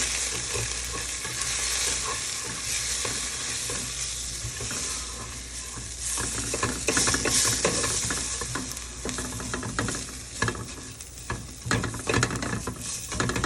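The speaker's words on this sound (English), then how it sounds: "And I'm going to stir this around now." Curry chickpeas and potatoes stirred in a sizzling pan, a steady loud frying hiss with scraping, clattering stirring strokes throughout.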